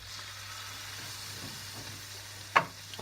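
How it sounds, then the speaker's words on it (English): Chopped tomatoes tipped into a hot pan of chorizo and chickpeas set up a steady frying hiss, with one sharp utensil knock late on and quieter sizzling after. "So, tomatoes going in."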